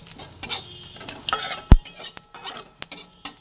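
Dried red chillies, white cumin seeds and a bay leaf fry in hot oil, a soft sizzle broken by irregular stirring scrapes and one sharp clink of utensil on pan.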